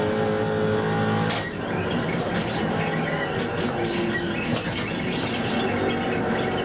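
A GTC race car in iRacing in second gear with the back end sliding: loud, steady engine drone with tyre squeal layered on top, close and continuous throughout.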